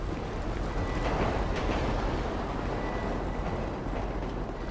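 Train rumbling along the tracks in Grand Theft Auto V on PS4, a loud, steady, rolling roar with faint metallic squeals above it.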